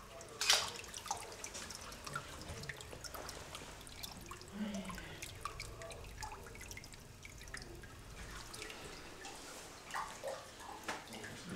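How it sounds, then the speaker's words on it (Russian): Faint dripping and trickling of water leaking under an apartment building floor from a burst cold-water supply pipe, soft irregular drips and splashes at low level. "То есть у вас дома прям под полом течет вода?"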